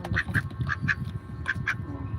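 A duck gives a run of sharp, nasal quacks, six calls in two quick pairs, close by. A low rumble of background noise runs underneath, and no one speaks.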